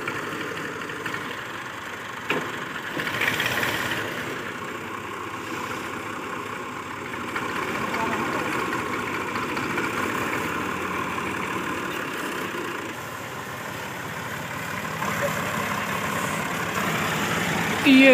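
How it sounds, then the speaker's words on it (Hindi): A tractor engine idles and rumbles steadily at close range while reversing on a village farm to couple with a tubewell pump shaft, with a brief knock early on and continuous mid-low engine drone throughout. "ये ट्रैक्टर जो है रिवर्स होके आ रहा है।"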